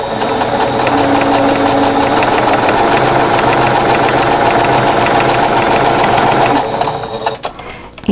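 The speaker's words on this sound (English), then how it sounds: "So I'm going to start with these two pieces and we'll sew those together." A sewing machine stitches quilt pieces together with a quarter-inch seam, a loud, steady rapid mechanical chatter running close and continuous before slowing and stopping near the end.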